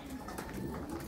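Pigeons cooing in a loft, soft low murmuring coos heard close and continuous over a brief moment.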